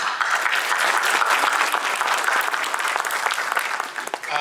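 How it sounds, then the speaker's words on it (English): An audience at a rabbinic installation ceremony in a synagogue gives a loud, sustained round of applause, with crisp individual claps throughout and a slight dip near the end. "One more round of applause."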